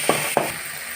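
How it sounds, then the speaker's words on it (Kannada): Ginger garlic paste hits a hot pan that already holds oil and tomato: a steady sizzle with two quick scraping stir sounds close together near the start. "ಶುಂಠಿ ಬೆಳ್ಳುಳ್ಳಿ ಪೇಸ್ಟ್ ಹಾಕ್ತಿದ್ದೇನೆ"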